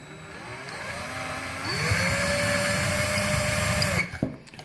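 A power drill fitted with a slightly larger bit whirs steadily and rises in pitch as it bores through, then winds down to a stop, loud and close, during a job wiring battery-powered Christmas decorations to mains power.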